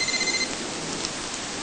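A mobile phone rings with a repeating electronic tone over steady rain-like hiss; the ring sounds briefly near the start and then stops.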